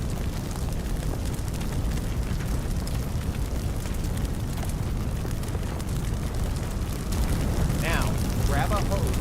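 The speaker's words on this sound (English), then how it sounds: "Notice how fast it jumps from object to object." Fire spreads in Firefighting Simulator as a dense, steady roaring rumble with crackling bursts, close and loud throughout, while a voice speaks over it.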